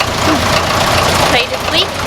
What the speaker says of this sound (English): My Astonishing. tractor, it's a 35X.